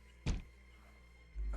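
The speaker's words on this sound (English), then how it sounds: "A Trevenant banging on the window." A single dull thunk, like something knocking against a window, lands once close by over a low steady hum, followed by a second rising rumble near the end.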